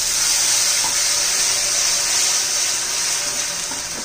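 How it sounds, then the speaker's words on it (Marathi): Steady close hiss and sizzle as a spoonful of water hits melting jaggery in a hot pan, continuing evenly throughout without any speech. "त्याच्यात एखादा चमचा आपण पाणी घालणार आहोत."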